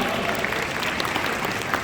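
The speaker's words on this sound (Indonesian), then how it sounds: "Wow, tepuk tangan dong." A dense wash of audience applause fills a large hall at a national youth leadership conference, steady and loud throughout, with faint voices mixed in underneath.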